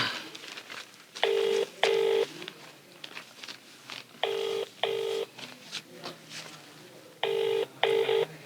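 A telephone keypad sends out three pairs of bright dialing tone beeps, each pair of short steady tones separated by quiet gaps with faint room noise between them.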